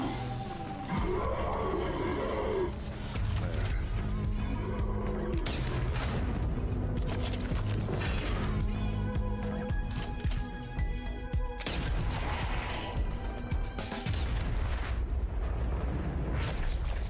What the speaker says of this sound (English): it is a fucking Nazi zombie with a goddamn flamethrower